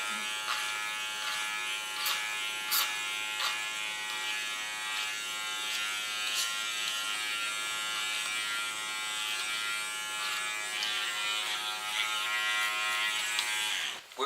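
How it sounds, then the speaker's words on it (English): Small Kiona electric hair clipper cleaning up contour lines on short hair, a continuous close high-pitched buzz that holds steady with light intermittent ticks as the blades move. "With my small Kiona clipper I can clean the contour lines"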